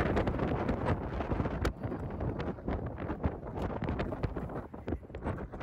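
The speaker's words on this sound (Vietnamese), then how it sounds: "Trời gió lạnh" Cold wind buffets a microphone outdoors, a constant loud rumbling roar with gusty bursts and rustling, lasting several seconds with no speech.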